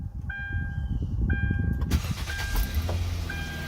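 A 2009 Hyundai Sonata engine cranks with a whirring starter over a chiming warning tone, then catches and settles into a steady idle rumble, close and moderately loud.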